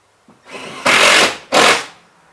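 A power screwdriver drives screws into drywall during water-damage repair around a water heater: two loud, close whirring bursts, each rising and then cutting off.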